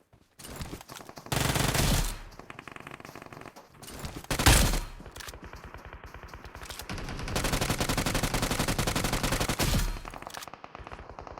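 Sustained automatic gunfire from PUBG Mobile, loud and close, with several long bursts of rapid shots separated by brief pauses.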